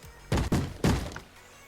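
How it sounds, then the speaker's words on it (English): Someone thumps on a door in Minecraft on the Civcraft server: three loud, close, hollow knocks, two in quick succession and then a third after a short pause, with nothing but faint background in between. "Who's thumping on my door?"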